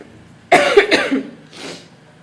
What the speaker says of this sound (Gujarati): મને આજ ચાલુ થઈ ગયો છે ઉધરસ